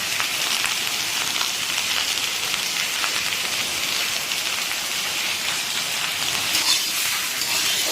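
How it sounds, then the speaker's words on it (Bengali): Heavy rain pouring outside a home kitchen, a dense, steady broadband hiss of drops drumming on surfaces, continuous and loud with no talk. "বাইরে প্রচণ্ড বৃষ্টি পড়ছে"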